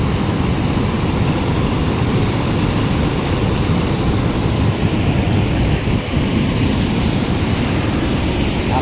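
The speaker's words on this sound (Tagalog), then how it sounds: "Nakatakot yung buhos ng ilog, lakas." Strong river current from the Wawa Dam in Rodriguez rushes in a constant, loud, low roar of churning water that fills the whole stretch without letting up.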